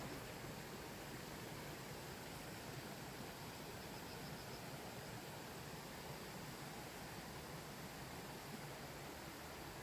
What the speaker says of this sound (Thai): จุดนี้เรียกว่าน้ำตกคลองคามนะคะ